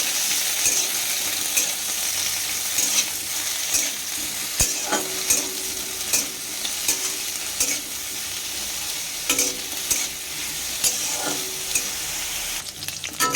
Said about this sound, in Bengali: বেগুন দিয়ে দিয়েছি, বেগুনটা একটু ভেজে নিই।